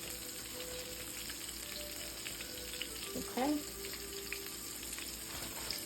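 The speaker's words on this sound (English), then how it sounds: "And my shrimp are frying." Shrimp sizzle and crackle steadily in hot oil, a soft constant frying hiss with a brief clatter and a short spoken word partway through.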